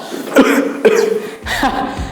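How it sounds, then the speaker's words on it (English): Two or three sharp, close deliberate coughs into an elbow in quick succession, each a short harsh burst, with a brief vocal sound in between. "This is the dab cough"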